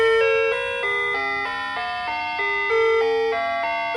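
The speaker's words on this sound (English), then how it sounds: "That was the driveway alarm." Driveway alarm chiming indoors, a loud, clear electronic melody of stepped descending and rising tones repeating in a steady pattern for several seconds, heard alone.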